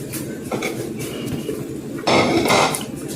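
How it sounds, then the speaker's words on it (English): Metal frying pan lid and a pot handled on a stove, with scattered clinks and knocks and a louder clattering burst partway through. "I'm using the cover for this frying pan and the other pot."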